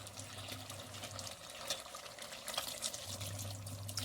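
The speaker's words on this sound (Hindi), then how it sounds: "आलू डाल के मैं भून लिया, अब इसमें डाल देंगे पानी" Water poured into a pan of frying potatoes while cooking chicken aloo gravy, a soft, continuous splashing and hissing pour heard close up at low volume, with no speech.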